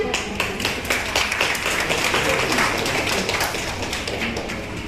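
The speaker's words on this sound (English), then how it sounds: "Let's clap for them." An audience at a school celebration applauds prize winners with quick, close clapping that is fairly dense and steady, with individual claps standing out throughout.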